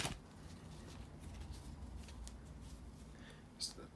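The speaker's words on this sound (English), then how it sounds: "bear with me a second, guys, to shuffle the tarot cards" Tarot cards being shuffled by hand, a soft, continuous papery riffle close to the mic, quiet over steady room noise, with a brief louder flick near the end.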